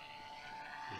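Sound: propeller vibration on the GeoBat model aircraft

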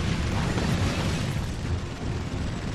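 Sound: missile explosion hitting the Hulk in a video game

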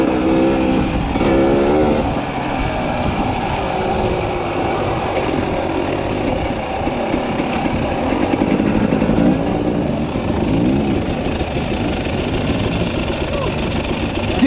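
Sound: enduro dirt bike engine revving on singletrack

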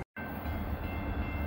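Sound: steel coil freight train climbing steep grade

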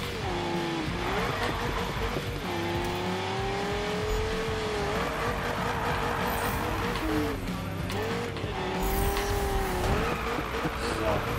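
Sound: car drifting with tire squeal in Need for Speed video game

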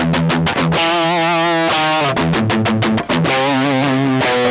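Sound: raw DI guitar from Fryette Power Station without IR

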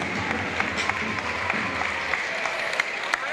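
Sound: audience applause at school league final

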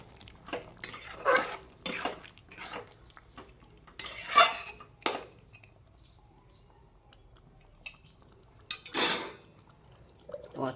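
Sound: stirring and frying mutton curry in a pot

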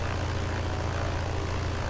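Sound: BN-2A Trislander engine in Microsoft Flight Simulator video game

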